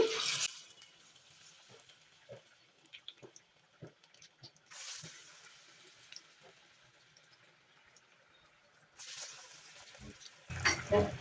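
Sweet corn garelu, Telugu lentil fritters, dropped into hot oil: sharp bursts of sizzling at the start, around five seconds and near the end, with quiet clinks and low kitchen sounds between.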